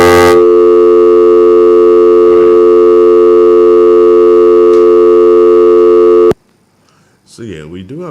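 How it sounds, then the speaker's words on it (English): A steady, loud telephone dial tone holds unbroken for about six seconds, then cuts off abruptly, after which a voice is heard speaking. "So yeah, we do have the dial tone."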